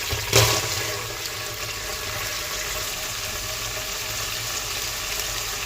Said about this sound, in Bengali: একই তেলে আমি পেঁয়াজ কুচি দিয়ে দিচ্ছি।